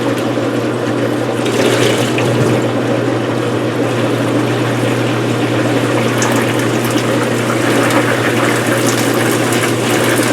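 A Maytag Neptune washing machine drum spins with a steady mechanical hum and churning water, running continuously and loudly, sloshing without pause.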